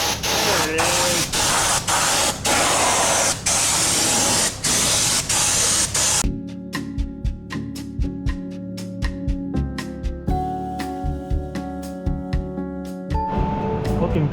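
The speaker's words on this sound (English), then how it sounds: "You kind of just pull the trigger and eventually it'll start siphoning up the hose." A siphon spray gun hisses steadily through its hose during a makeover of a junkyard-saved OBS GMT400 truck with an 8.1L swap. The close, continuous spray runs for several seconds, then gives way to clicking and clattering.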